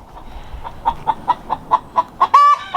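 Chickens at a farm chicken coop make a run of short, evenly spaced clucks up close, rising into a louder, drawn-out squawk near the end.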